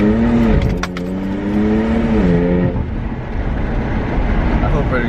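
Inside a BMW 335is with a suspected boost leak, the engine drones steadily and loudly, its pitch rising and falling with a rushing, airy hiss underneath, and voices are heard over it.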